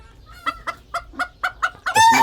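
Fayoumi hens cluck close by in a quick run of about seven sharp, evenly spaced calls, ending in a louder, denser burst of squawking at a poultry pen in Al-Jish, Qatif.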